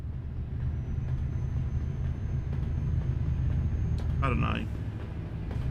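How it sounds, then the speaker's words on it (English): Inside the Euro Truck Simulator 2 video game, a train passes, heard as a continuous low rumble with a brief high screech, while someone speaks briefly over it. "hearing a train somewhere. Oh, it's literally right there. Euro Cargo Rail."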